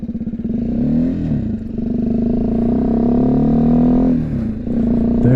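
A BMW G310GS single-cylinder motorcycle engine hums close and loud while riding, its pitch sagging and recovering around gear changes, with a clattery drop near the end as a downshift finds neutral.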